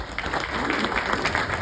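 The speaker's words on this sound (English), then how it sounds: "Give him a round of applause" Short burst of audience applause welcoming a software developer to the stage, a dense clatter of clapping hands in a room, fairly close, with no speech.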